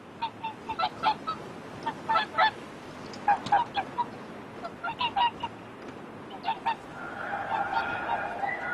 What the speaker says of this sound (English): This is in fact the second visit the swans have made to the lake.